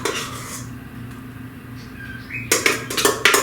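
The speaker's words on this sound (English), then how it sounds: "you're going to spoon your cream cheese mixture into the bottom of the pie crust." A spoon scraping cream cheese mixture from a bowl into a pie crust, soft low handling at first, then several sharp clinks and scrapes of utensil against dish near the end.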